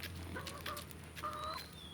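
A pet rooster gives a few soft, faint clucks in short bursts, heard close but quiet over a low steady background hum.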